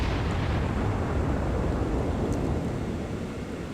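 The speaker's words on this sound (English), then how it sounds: "Looks like that salvo is going to land on him. And sure enough it does." Naval gun salvo landing on a battleship in a naval video game: a loud, sustained roar of explosion and rumbling spray that fades slightly toward the end.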